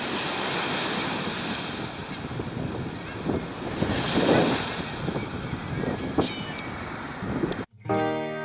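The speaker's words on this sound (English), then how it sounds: "as long as we were able to tolerate the constant wind" Steady, loud wind buffets an open coastal beach along Highway 1 in California, with surf rolling underneath and gusts swelling near the middle before a brief cutoff at the end.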